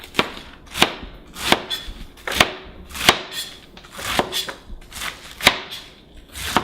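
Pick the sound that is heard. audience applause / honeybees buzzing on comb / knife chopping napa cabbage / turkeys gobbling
knife chopping napa cabbage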